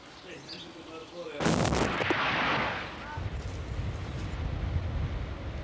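Artillery shelling during the Israeli invasion of Lebanon, heard as a sudden loud blast followed by a rumbling roar that fades into steady low battlefield noise.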